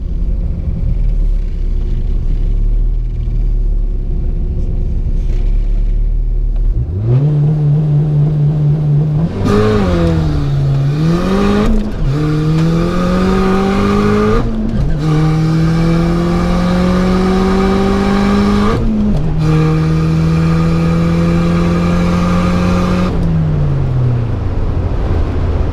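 A Ford Mustang SVO at a racetrack, its engine revving up through gears in long rising pulls with brief drops between shifts, loud and close, with no talk.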